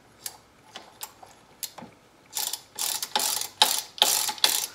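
A restored Sturmey Archer S5 bicycle hub spins freely, its pawls ticking in quick irregular bursts that start sparse and faint, then grow louder and denser as the hub is spun harder.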